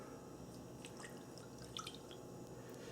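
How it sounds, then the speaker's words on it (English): Water poured over sugar in a saucepan, quiet drips and light splashes that cluster briefly over a faint steady background hiss. "I'm going to add the water"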